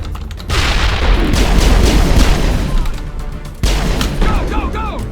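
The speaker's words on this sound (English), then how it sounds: "Grenade." Grenade blast and surrounding gunfire in the Mass Effect video game: a loud burst of booming, crackling combat noise that runs for several seconds, then breaks briefly and resumes, with game sound effects sweeping over it.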